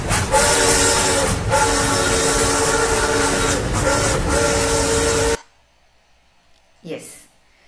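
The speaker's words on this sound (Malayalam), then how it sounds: "can you hear a train whistling by?" A train rushes past at close range, a loud, dense roar with a horn-like whistle tone that cuts off abruptly after about five seconds. A brief fainter swell of sound follows.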